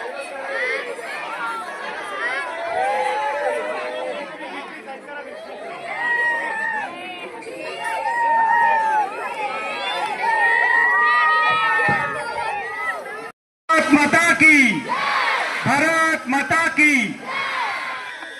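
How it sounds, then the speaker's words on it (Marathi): Children at a school kabaddi match shout, whoop and cheer in a loud, continuous crowd roar that breaks briefly and then surges again, with excited voices overlapping throughout. "ए जरा जल्लोष करा"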